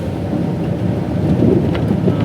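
Rain pours steadily with a low rumble of thunder swelling underneath, close and loud, with no voices over it.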